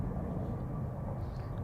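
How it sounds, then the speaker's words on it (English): A train rumbling past some way off during winter garlic planting in a garden, heard as a steady low-pitched drone with no clear peaks, continuous and fairly faint throughout. "Sounds like we've got a train coming through."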